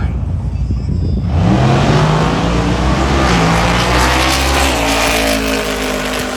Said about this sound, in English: the world's loudest Pontiac G8